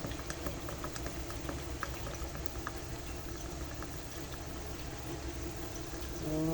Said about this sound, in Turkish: Kaynıyor hala.